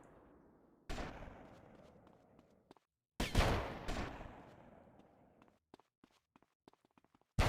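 Gun in GTA Vice City Definitive Edition firing two loud, close bursts with sharp onsets, each decaying into a ringing tail. Scattered clicks and footsteps fill the quieter gaps, and a final shot lands at the end.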